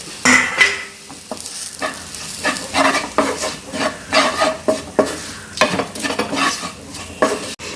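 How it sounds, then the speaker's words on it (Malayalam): Onions with spice powders fry and sizzle in a pan for tomato sambar, while a spoon stirs and scrapes against the metal in a steady, repeated rhythm, close and fairly loud, with no talking. "ഇപ്പം നമ്മുടെ ഉള്ളി മൂത്ത് വന്നിട്ടുണ്ട് ഈ സമയത്ത് നമുക്ക് ഈ പൊടികൾ ചേർക്കാം"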